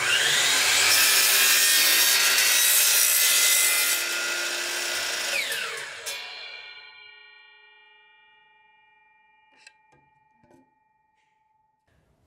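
A miter saw makes a compound cut through wood. The loud, harsh cut lasts about six seconds, then the motor whines down to silence, followed by a few faint clicks.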